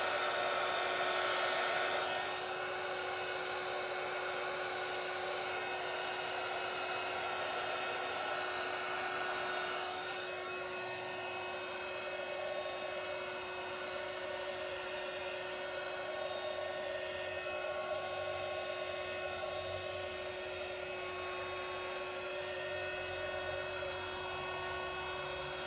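Heat gun blowing steadily on an epoxy resin pour, a constant whining hum with a hissy airflow, close and unbroken for the whole stretch with no talk.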